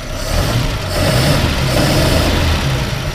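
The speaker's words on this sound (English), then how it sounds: "go ahead and rev it up just a little bit" A 1930 Willys Overland Whippet 6 Deluxe touring sedan engine running close by, a steady mid-pitched idle rising into a light rev and holding there, with no talk.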